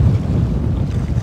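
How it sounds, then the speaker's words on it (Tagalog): Strong wind gusts roar steadily across the microphone at a fishing pier at Tagda Pier, with a continuous low buffeting rumble and a hint of nearby water, loud and unbroken, with no voices. "Lumakas na may hangin."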